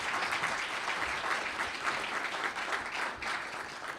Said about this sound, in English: I want a round of applause for all the co-chairs and their contributions.